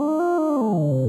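Bright synthesizer tones from the Gradient Synth app on iOS play a short melodic phrase of sustained, harmonically rich notes that step downward in pitch, clean and loud with nothing else present.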